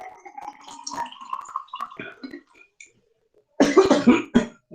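An elderly woman coughs several times in close, loud bursts after a stretch of quiet, low speech during a classroom lecture.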